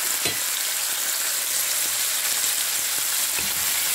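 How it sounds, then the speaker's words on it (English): Chicken sautéing with ginger and spices makes a loud, even, close hiss of frying that runs without a break, with a few faint clinks of stirring and no talking. "So you can saute this up to 2 minutes."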